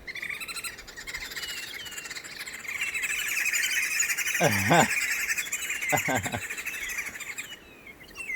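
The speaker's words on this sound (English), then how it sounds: "the green wood hoopoes are about to start calling now" Several green wood hoopoes break into a loud, cackling chorus, harsh chattering calls building and repeating, with voices talking faintly underneath.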